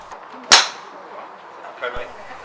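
At blind golf training, a golf club strikes the ball once with a sharp, bright crack, followed by quiet outdoor background and a faint murmur of activity.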